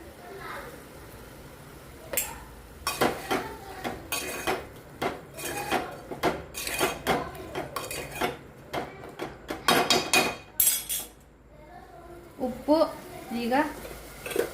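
A metal spoon clatters and scrapes around a pan while food is stirred in oil, with irregular close knocks and rattles and a voice speaking at times.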